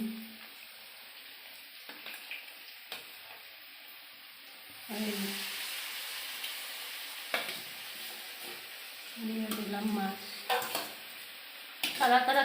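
Dried fish tipped into a pan of cooked, sizzling vegetables, with a steady frying hiss, occasional stirring clatter and a louder sizzle burst as the fish hits the pan, close and alone.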